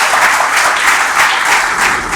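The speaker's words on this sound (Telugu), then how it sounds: "ప్రతి ఫ్యాకల్టీకి మరొక్కసారి చప్పట్లతో స్వాగతం తెలియజేస్తున్నాను" Steady applause from an audience at a farewell party at an institute in Hyderabad, welcoming the faculty, dense and continuous clapping throughout without breaks.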